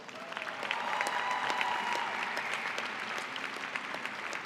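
A graduation ceremony audience at Carnegie Mellon's Heinz College breaks into a steady round of applause, sustained and fairly distant, with no voices over it.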